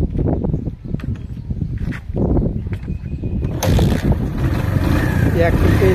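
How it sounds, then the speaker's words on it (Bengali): Bajaj CT 100 kick-start motorcycle being kicked over, rough mechanical thumps followed by the engine catching and settling into a loud steady idle in the second half, with voices talking early on. "গাড়িটি আমি স্টার্ট দিয়ে দেখাই।"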